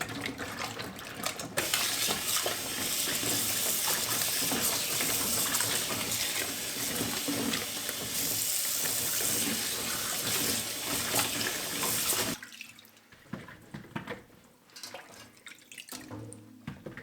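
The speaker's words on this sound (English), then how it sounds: "all I'm going to do is add a few tablespoons to this water" Tap water runs steadily and loudly into a container while a fruit and vegetable cleaning solution is prepared in a kitchen, then cuts off abruptly, leaving faint clatter and quiet room sound.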